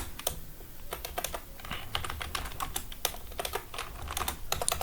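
Steady, fairly close typing on a computer keyboard while entering a Python code comment, quick runs of key clicks with short pauses between words, no voices.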